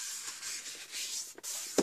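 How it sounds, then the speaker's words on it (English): Coral card stock folded in half and creased, soft rubbing and sliding paper sounds at close range, ending in a couple of brief sharper crease snaps. "I'm just going to fold this in half."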